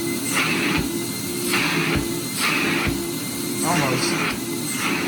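1975 Sears Kenmore canister vacuum, model 116.25990, running on high with a continuous droning whine and rhythmic swishing surges as the tool moves back and forth, a brief word spoken over it.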